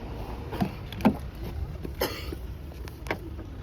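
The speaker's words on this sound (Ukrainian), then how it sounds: "Ты кашляешь?" A few short coughs at a family home, spaced about a second apart, moderately close but fairly quiet over a low indoor background, with no talking.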